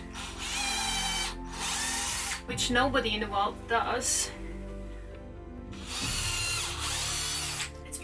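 A power drill pre-drilling nail holes in wood for a cabin door whirs in two bursts of a few seconds each, separated by a person speaking briefly in between.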